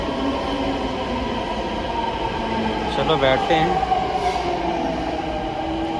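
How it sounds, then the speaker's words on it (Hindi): A Delhi Metro train heading toward Dwarka hums and rumbles along, its wheels clicking and briefly squealing, while people talk close by. "हमारी द्वारका की ओर जाने वाली मेट्रो आ गई"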